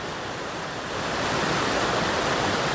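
A waterfall in Franconia Notch, New Hampshire, rushes as a steady, dense roar of falling water, close and continuous with no voices.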